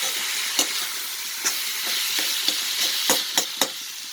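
Chicken masala with curry leaves and tomato sizzles in a pan, a steady hiss broken by repeated scraping stirs and sharp clinks of the spoon, close up and without talk.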